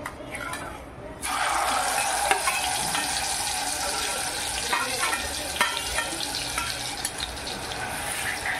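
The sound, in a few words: roasting cumin and coriander powder masala in hot oil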